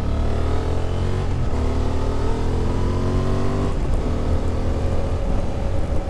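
A 2023 Honda XL750 Transalp motorcycle engine pulls hard through the gears, a loud, continuous droning roar with rising pitch sweeps and brief dips at each shift, heard close from the rider's position.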